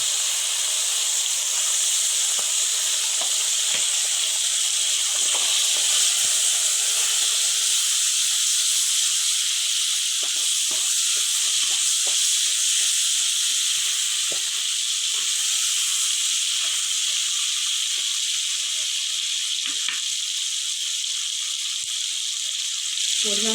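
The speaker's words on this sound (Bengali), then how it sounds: "মাংসগুলি ভেজে নেব।" Chicken pieces fry in a pan for chicken chow mein, giving off a loud, unbroken sizzling hiss for the whole stretch, with faint scattered pops and clicks underneath.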